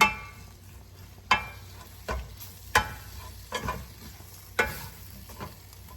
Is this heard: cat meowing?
no